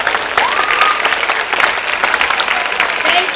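Audience at a Jurong Bird Park show in Singapore breaks into steady applause, a dense, loud wash of clapping from a crowd that continues throughout with no pause.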